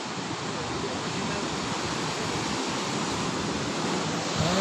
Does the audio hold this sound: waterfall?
yes